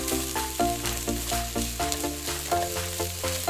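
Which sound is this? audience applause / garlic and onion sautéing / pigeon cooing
garlic and onion sautéing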